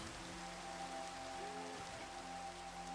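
Steady rain in a video game, a constant soft hiss and patter of falling drops with faint tonal hum beneath, even and continuous throughout.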